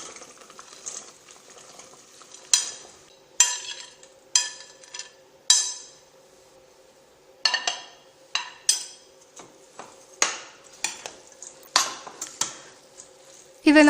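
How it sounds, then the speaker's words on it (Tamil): Fried boondi is stirred into rose-scented sugar syrup in a pan off the heat, a spoon clinking and scraping against the metal in sharp, irregular strokes over a quiet background. "இதை இந்த மாதிரி நல்லா கிளறி விட்டுருங்க."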